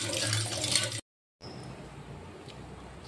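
Rice washed in water for rice pudding: water runs and sloshes loudly, cuts out completely for a moment, then returns softer with gentle splashing and trickling.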